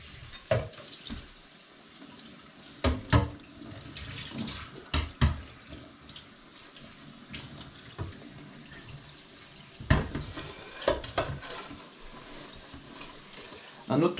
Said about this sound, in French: Ok, la première chose à faire, c'est bien nettoyer les orties.